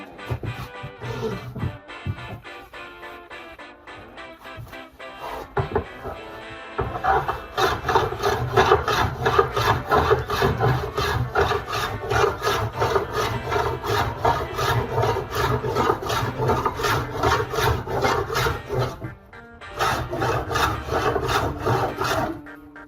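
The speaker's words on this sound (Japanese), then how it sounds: "ちょっとカンナ使ってやってみます。" A traditional hand plane shaves down the shaft of a handmade wooden golf club in repeated rapid rasping strokes, close and loud, after a quieter stretch of lighter scraping and a short pause near the end.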